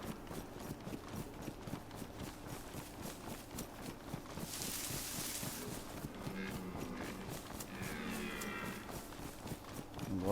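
Cows in the DayZ video game, heard as a steady wash of rustling, footstep-like thuds and low animal sounds, fairly faint, with a brighter swell midway.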